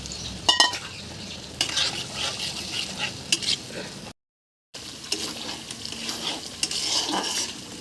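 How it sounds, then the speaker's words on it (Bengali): Spice paste stir-fried in a pan, with repeated scraping strokes of a spatula, occasional metallic clinks and a constant sizzle, broken by a brief silent gap. "মশলা কষা হয়ে গেছে"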